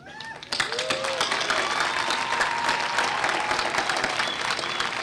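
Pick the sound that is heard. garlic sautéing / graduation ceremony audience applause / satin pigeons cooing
graduation ceremony audience applause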